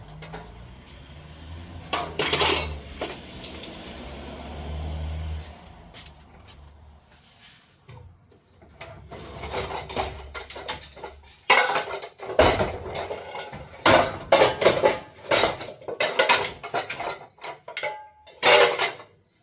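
Heavy aluminium pans and other metal items clatter and clank as they are handled and shifted in a dumpster, starting quietly then turning into a dense run of loud, irregular metallic knocks and scrapes close by.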